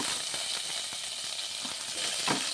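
Mustard seeds, cumin and ginger-garlic paste hit hot oil, giving a dense, even hiss of sizzling that runs throughout, close and fairly loud, with no talk.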